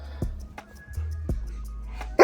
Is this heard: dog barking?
yes